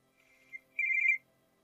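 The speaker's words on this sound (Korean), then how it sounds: "다음 날 전화." A telephone ringing indoors, two short electronic trilling bursts, the second louder and longer, clean and isolated against near silence.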